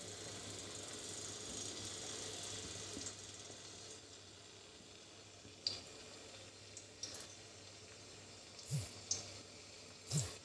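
Chopped garlic for a soyabean roast hisses gently in a pan that is still heating, a faint steady sizzle broken by a few soft ticks and pops, with nobody talking.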